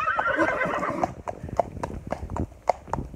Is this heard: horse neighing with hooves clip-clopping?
yes